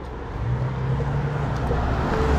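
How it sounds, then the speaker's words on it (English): Steady traffic on a road near a ski area, cars rolling past one after another with a constant low rumble close by. "we got about 4 cars coming, so we're gonna let them pass"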